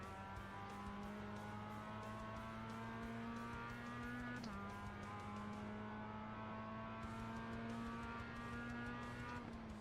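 In the iRacing sim at Oulton Park, a race car engine holds a steady high drone, accelerating out of a corner with one brief dip mid-clip, faint and continuous with no talking.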